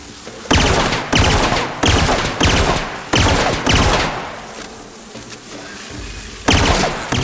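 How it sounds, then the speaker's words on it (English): Mantis swarms in the video game The Outer Worlds make a loud, close buzzing that comes in repeated bursts of about half a second, separated by short gaps, with no speech. "It must have been one of those mantis swarms"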